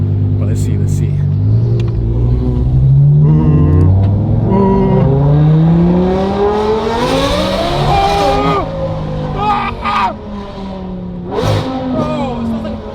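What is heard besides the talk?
Lamborghini Aventador launch, engine revving and accelerating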